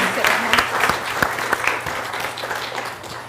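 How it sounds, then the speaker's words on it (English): A panel audience applauds a guest walking on, a close burst of clapping with sharp individual claps standing out, tapering slightly toward the end. "Give her a round of applause"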